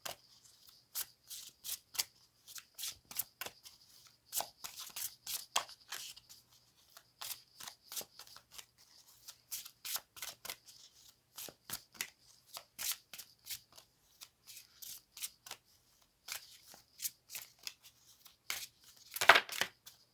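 Tarot cards are shuffled and riffled in quick repeated bursts of crisp papery flicks, close and fairly loud against a quiet room, with a sharper flurry near the end.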